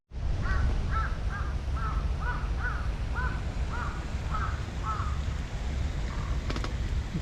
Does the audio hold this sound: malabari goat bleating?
no